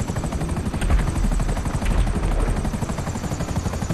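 A helicopter in GTA Online roars with steady, loud rotor thumping and high engine whine, close and continuous, with no talk over it.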